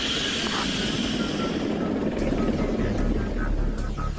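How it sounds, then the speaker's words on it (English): A chase helicopter flies alongside an A-160 unmanned aircraft during a test flight, its steady rotor drone holding loud and continuous throughout, with faint higher whines and brief clicks riding on top. "Shadowed by a chase helicopter"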